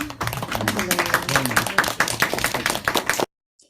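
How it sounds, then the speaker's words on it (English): An audience claps for a speaker at an online webinar, a dense burst of hand claps lasting about three seconds before stopping abruptly, with some voices mixed in. "Let's give Tony an extra round of applause"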